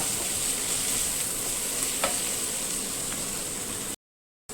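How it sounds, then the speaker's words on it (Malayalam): Continuous sizzling of chili powder frying in a pan, with a few light scrapes of a spoon stirring, then a brief cut to silence near the end. "ഒരു സ്പൂൺ മുളക് പൊടി നന്നായി യോജിപ്പിച്ച് കൊടുക്കുക പച്ചമണം മാറുന്നോളം വരെ ഒന്ന് ഇളക്കി കൊടുക്കുക"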